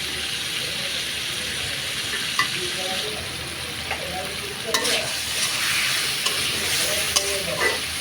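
Potato pieces sizzle steadily in hot oil in a pan while a spatula stirs and scrapes them, giving intermittent close clinks and scrapes over the continuous frying hiss.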